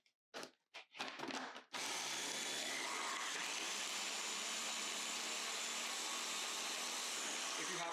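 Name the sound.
food processor chopping green seasoning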